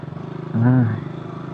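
A motorcycle with a manual gearbox climbs a steep mountain road in Mountain Province, its engine droning low with a brief louder surge of revving in the middle.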